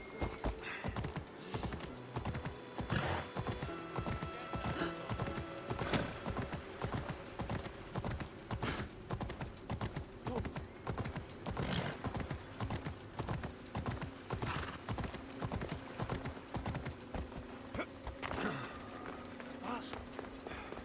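Horse hooves clip-clop at a steady gallop in the Assassin's Creed Odyssey video game, a continuous rhythmic pounding layered with game ambience and music, fairly quiet overall.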